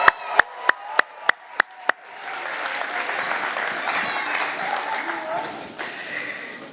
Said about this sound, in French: Est-ce qu'on peut oser un grand cri de joie vers Dieu et un grand applaudissement